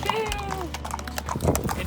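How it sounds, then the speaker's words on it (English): Horse hooves clip-clop while the animal is ridden in a snowy village setting in Pakistan, with a person's voice and tonal vocal sounds over the steady footfalls. "this is my first ever time riding a horse"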